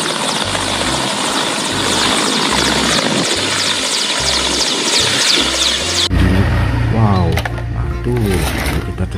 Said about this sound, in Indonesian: Wow, helikopter, teman-teman.